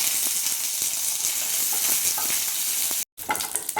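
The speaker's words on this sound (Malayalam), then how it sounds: "ഇതിലേക്ക് കുറച്ച് വെളിച്ചെണ്ണ ഒഴിച്ചു കൊടുക്കാം. കടുക് ചേർത്ത് പൊട്ടിക്കാം. വറ്റൽമുളക്, കറിവേപ്പില" Mustard seeds, dried chillies and curry leaves spluttering in hot coconut oil for a Kerala beetroot pachadi, a dense crackling sizzle with rapid pops, close and loud, briefly cutting out near the end before resuming.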